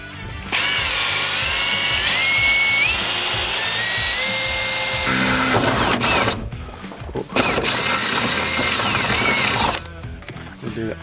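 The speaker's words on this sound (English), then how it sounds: "now we're just going to drill out the marked holes with a 8mm drill bit" An 8mm bit on a power drill boring holes through a car bonnet on a GQ Patrol: loud, close, high-pitched whining runs with screeching metal, stopping twice briefly between holes.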